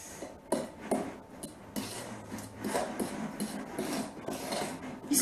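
Someone stirring a purple Halloween cake or slime mixture in a bowl, with repeated close scraping and rubbing strokes and light knocks of the utensil, no voices.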